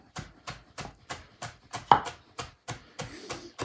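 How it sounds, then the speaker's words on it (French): A knife chops coriander finely on a cutting board, a steady run of about a dozen crisp, evenly spaced thuds heard close up, with no talking. "On va venir couper notre coriandre."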